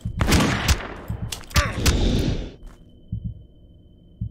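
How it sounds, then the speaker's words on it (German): Gunfire in the horror hunting video game Witch Hunt, a few sharp blasts in the first half amid rumbling game noise, then fading to a quiet background hum with soft low thuds. "Ich habe nur einen Schuss abfeuern können."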